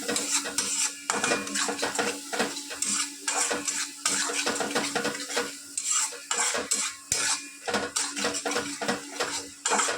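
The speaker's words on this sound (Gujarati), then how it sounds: "સરસ આપણે બધું મિક્સ કરી લઈશું" A spoon stirs a thick batter of bitter gourd, onion, green chili and spices including garam masala, turmeric, red chili powder and coriander-cumin in a bowl, with steady scraping and clinking strokes close by, no talking.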